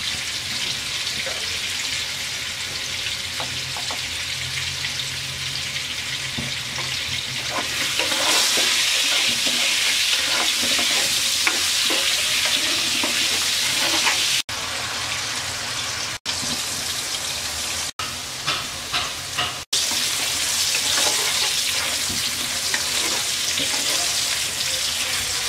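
Potato pieces fry in a pan with turmeric and salt, giving a continuous loud sizzle with stirring scrapes that swells midway and is broken by a few brief cuts.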